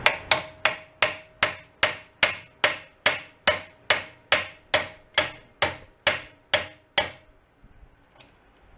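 A hammer taps the bent frame of a 1975 Honda 250 trials bike: about sixteen loud, close, ringing metallic strikes at a steady, even pace, then silence.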